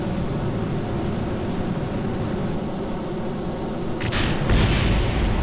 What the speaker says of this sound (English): Staging went off without many problems, there was some explosion